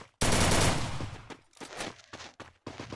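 Gunfire from the mobile battle royale game Free Fire: a loud, dense burst of rapid automatic shots opens the clip, followed by several shorter broken volleys, all close and dominant with no talking.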